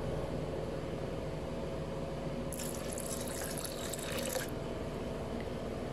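Water is poured into a mango lassi mixture, a short splashing pour rising briefly over a constant low background hum.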